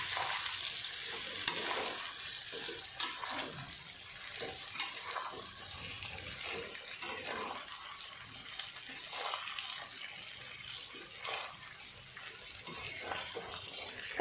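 Fried pointed gourd and chicken being stirred together in a pan, a continuous sizzle with repeated scraping stirs throughout, a faint voice now and then beneath it.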